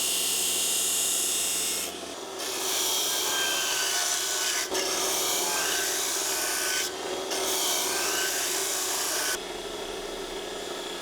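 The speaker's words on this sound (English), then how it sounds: "we can go ahead and start the sharpening process" A file or grinder rasps steadily along a zero-turn mower blade during sharpening, a loud continuous scraping that pauses briefly a few times between strokes.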